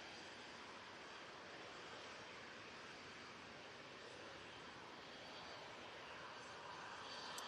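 An EasyJet airliner rotating on takeoff at Manchester Airport gives a steady, loud broadband engine roar that holds evenly throughout, with no voices.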